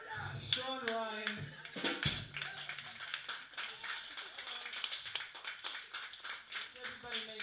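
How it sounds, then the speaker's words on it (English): Scattered clapping from an audience at a live Record Store Day show at a record store, cheering the local bands, runs steadily under a loud voice that keeps talking over it. "Everybody make clap hands for all the bands out here"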